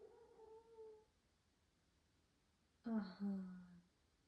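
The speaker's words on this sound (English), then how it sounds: "That was a little kitty." A small kitten gives two meows, a thin drawn-out cry followed after a pause by a louder, closer, lower one, with a quiet background between them.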